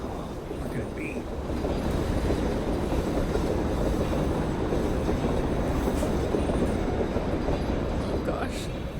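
A train wagon rolls steadily along rails in the horror game REVEIL, a dense, continuous low rumble with faint metallic squeals and clatter, loud and unbroken throughout.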